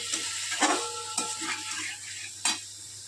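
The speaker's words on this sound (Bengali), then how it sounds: "ওইদিকে আমি কড়াই বসে আমি এখন মশলাটা কষছি। একটু ভাজা ভাজা হয়ে আসছে" Masala paste and potatoes sizzle and fry in a wok while a utensil stirs and scrapes against the metal, with a few sharp clinks standing out over the continuous close hiss.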